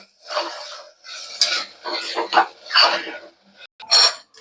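Metal spoon scraping and clinking in a pot while roasted peanut powder is mixed into moraiya khichdi, several close, loud bursts of stirring separated by short pauses.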